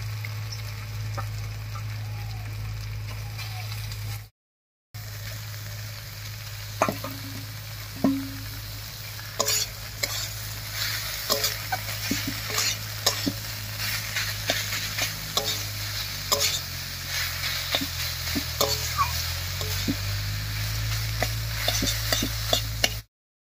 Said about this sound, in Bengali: এবারে আলু মশলার সঙ্গে মোচাটাও একটু ভাজা ভাজা মতো করে নেব।